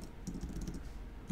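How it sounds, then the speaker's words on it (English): Quick soft key clicks on a computer keyboard as a web address is typed, close and low, a short steady run of taps. "I'll type it into the chat here."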